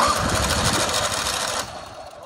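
A riding lawn mower engine cranking and running, a dense rough mechanical drone that drops off near the end, close and loud with no speech.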